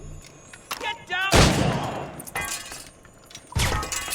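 Gunfire in the video game Assassin's Creed Rogue: a loud sharp shot burst with crashing debris near the middle, followed by further bursts of impacts, with brief talk-like sounds between.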